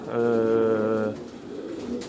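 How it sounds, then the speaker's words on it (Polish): A domestic racing pigeon cooing close by, one sustained throaty coo lasting about a second, then quieter background noise with no talk. "chciałbym pokazać może gołąbka"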